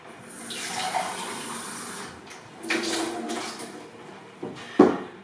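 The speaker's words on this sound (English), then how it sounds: "Now we want about half a pint of tepid water." Tepid water pours into a bowl of flour and olive oil for pizza dough, a soft splashing trickle in two bursts with a sharper knock near the end.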